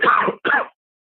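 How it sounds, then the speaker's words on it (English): A single rough cough splits into two short bursts, close and fairly loud, ending in silence. "your cough sounded so spooky right now"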